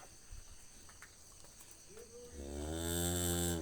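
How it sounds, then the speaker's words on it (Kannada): A water buffalo lets out one long, deep, loud moo that rises and holds near the end, after a stretch of quiet rustling with steady insect chirping in the background. "ಇದು ಎಮ್ಮೆ."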